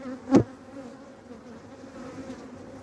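Honeybees at an opened hive early in the season, a low buzzing drone with one bee passing close and loud near the start.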